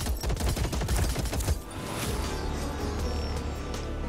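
Rapid, loud bursts of Devastator machine gun fire in the video game Indus, a dense rattling volley up front that gives way to a steadier sustained roar of continuing shots and game noise.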